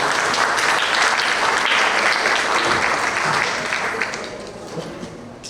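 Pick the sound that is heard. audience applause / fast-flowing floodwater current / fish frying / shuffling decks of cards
audience applause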